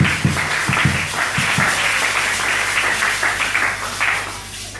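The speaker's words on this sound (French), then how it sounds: "Tu peux applaudir le Seigneur." Church congregation applauding, a dense steady wash of many hands clapping that fills the room for several seconds at a constant level, with no speech on top.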